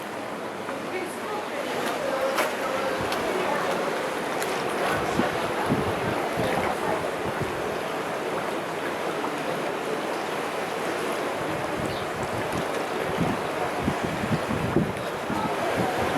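Sea water washes at the rocky Ghar Lapsi grotto on the Maltese coast, a broad continuous surf wash mixed with gusty wind buffeting the microphone, steady and fairly loud throughout.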